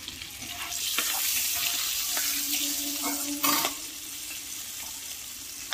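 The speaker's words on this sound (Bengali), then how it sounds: "কালো জিরে ফোড়ন দিয়ে দিচ্ছি।" Nigella seeds drop into hot oil as tempering for a bottle gourd and prawn curry, giving a steady close sizzle and hiss with a few sharp clinks and a brief louder burst partway through.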